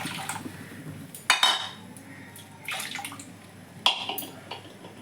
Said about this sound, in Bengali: এবার রাবড়িটা করে নেব। কড়াই দুধ দিয়ে দিলাম